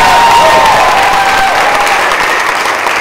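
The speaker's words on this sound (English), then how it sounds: "That deserves a huge round of applause." Loud, close applause fills a spring semester showcase recital, an even wash of many hands clapping with faint cheering and crowd noise mixed in.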